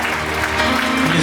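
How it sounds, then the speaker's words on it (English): Wedding guests applauding at a reception, a brief wash of clapping under music with sustained tones, fairly loud and close. "Let's give a big round of applause there to Alan"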